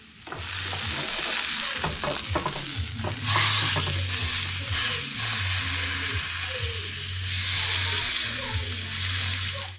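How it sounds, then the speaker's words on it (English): A steak sizzles loudly in a hot pan, a constant crackling fry with a few clanks and scrapes of a utensil against the pan early on. "Nothing better than a sizzling steak."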